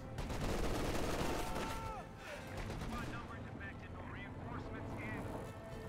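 Machine gun fire in Company of Heroes 2, a dense rattle of shots mixed with battle noise and engine rumble, with a voice talking over the action.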